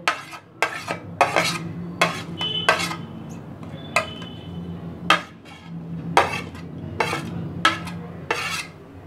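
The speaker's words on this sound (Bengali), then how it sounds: "এখন আমি এই পেঁয়াজ, ধনেপাতা, কাঁচা লঙ্কা সবগুলো একসঙ্গে একটা বোলের মধ্যে নিয়ে নেব" Chopped onion, coriander and green chilli are scraped into a bowl with a spoon, giving a string of sharp clinks and knocks against the dish at an uneven rhythm, close and clear over a low background hum.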